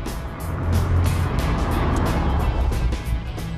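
A DeLorean's 2.8-litre V6 engine accelerating, a loud sustained rising roar with no talk.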